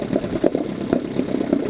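A Johnson 7.5 hp outboard motor idles close by with an even, throbbing putter of regular pulses, steady and alone.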